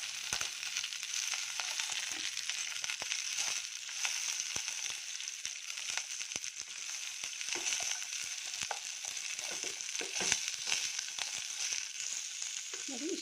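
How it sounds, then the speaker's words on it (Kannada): Onion, garlic, sesame seeds and chickpeas frying in a pan, a steady close hiss of sizzling oil with occasional stirring scrapes and crackles, no talking. "ಈರುಳ್ಳಿ ಬೆಳ್ಳುಳ್ಳಿ ಫ್ರೈ ಆಗಿದೆ ಅಲ್ವಾ, ಇದು ಸ್ವಲ್ಪ ಫ್ರೈ ಆದರೆ ಸಾಕು"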